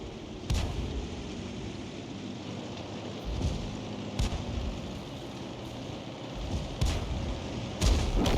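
In the World of Tanks video game, SU-8 and GW Tiger (P) artillery cannons fire about five heavy booming shots at irregular intervals over a constant rumbling battlefield ambience.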